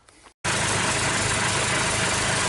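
The engine of a 1963 Ford Falcon cranks briefly, pauses, then catches and settles into a loud, steady, rumbling idle that carries on alone to the end.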